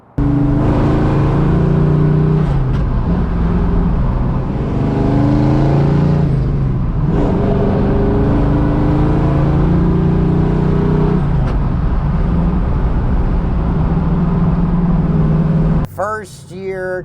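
A 1967 Chevrolet Camaro V8, a first-year plain base model, idles loudly and revs in steady swells, its engine note rising and falling several times before cutting off near the end.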